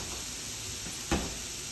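Julienne carrots sizzle in a hot pan with a steady, close frying hiss, and a brief louder crackle and clatter comes as they land.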